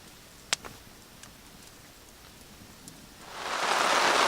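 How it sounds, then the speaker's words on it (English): Rain starting to fall at a lakeside canoe campsite, a few isolated drop taps at first, then a soft, steady hiss building up. "It started to rain out of nowhere and we were not prepared, so threw up a tarp real quick."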